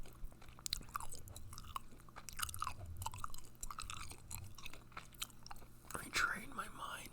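Close, soft gum chewing in an ASMR setting, with wet smacking and clicking sounds repeating steadily over a low hum, alongside quiet whispered or murmured speech.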